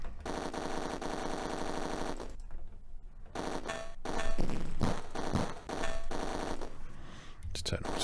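Rapid auto-fire shots in the Atari ST rail shooter Roller Coaster Rumbler, bursts of quick repeated blasts broken by short pauses, mixed with game music and thuds.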